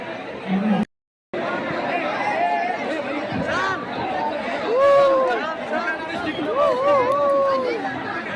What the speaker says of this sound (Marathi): आपल्या लाडक्या बाप्पाची एक छोटीशी झलक मिळावी यासाठी ही लोकांची गर्दी